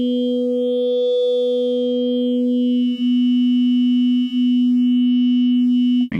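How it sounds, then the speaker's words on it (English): A Groove Synthesis 3rd Wave synthesizer holds one steady, loud tone while its digital notch filter sweeps slowly up and back down, carving a moving hollow through the sound. A few brief dips in level come before an abrupt cutoff, with no voices. "All right, let's hear it in the notch."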